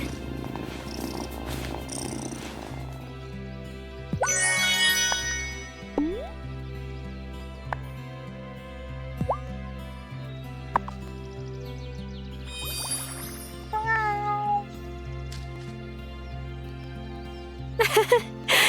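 A cat purrs steadily in the video game Wylde Flowers, with a few short meows, light chimes and clicking game sounds over the continuous purr.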